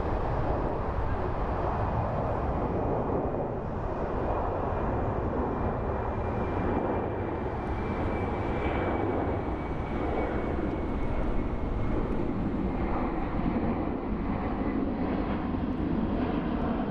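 A Delta Air Lines airliner bound for Detroit at Frankfurt airport, heard as a steady, broad jet roar with a faint high whine, holding even and fairly loud throughout with no voices.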